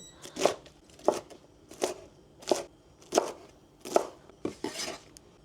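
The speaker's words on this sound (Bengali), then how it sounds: "পাতাকপির কাটিংটা আপনারা যে কোনোভাবে দিতে পারেন জুলিয়ান করে দিতে পারেন অথবা চপ করে দিতে পারেন" Cabbage being cut into fairly large pieces with a knife on a board, seven distinct close chopping strokes at a steady rhythm, each a crisp thud with a crunchy edge, no talking.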